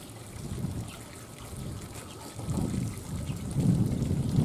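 Running water rinsing a freshly cut fish under a tap, a steady trickling splash that grows louder toward the end, with no voices.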